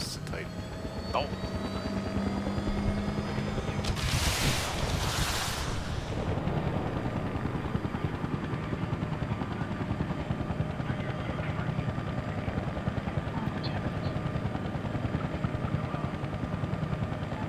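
Havoc and Apache attack helicopters clash in Battlefield Bad Company 2, a steady rotor and engine drone running throughout with a loud burst of blasts or gunfire near the start, voices speaking over it.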